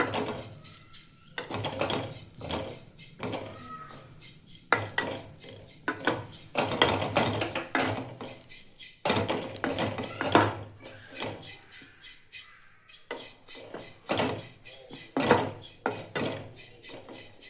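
Dry coconut roasting in a pan while being stirred makes repeated scraping strokes and metallic clinks in irregular bursts with short pauses, fairly close. A faint voice may be heard now and then.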